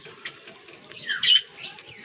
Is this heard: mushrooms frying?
no